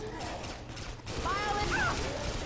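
Weapon reload in Left 4 Dead 2, heard as a few faint mechanical clicks and clacks beneath a quiet, muffled game background, with a brief voice in the mix.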